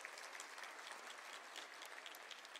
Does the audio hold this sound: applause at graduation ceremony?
yes